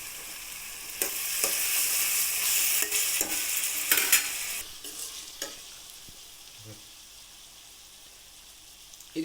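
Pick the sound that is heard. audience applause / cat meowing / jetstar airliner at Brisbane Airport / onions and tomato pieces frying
onions and tomato pieces frying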